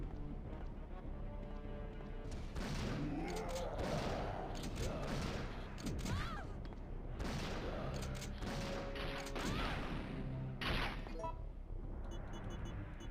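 The Nemesis in the Resident Evil 3 video game firing small anti-personnel rockets, a steady barrage of repeated blasts and bangs running throughout, loud and busy, with someone talking over the gameplay.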